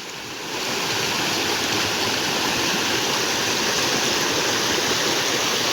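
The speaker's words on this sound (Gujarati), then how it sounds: "જો આ તાણી જાય એટલું જ પાણી આવે" Rainwater rushing loudly into a pond after heavy rain, a steady close roar of flowing water that rises within the first half second and holds without a break.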